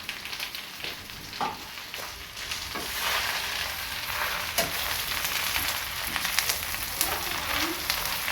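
Taro leaves sizzle and fry steadily in a pan just after turmeric goes in, a continuous loud crackling hiss with occasional stirring clatter, no voices.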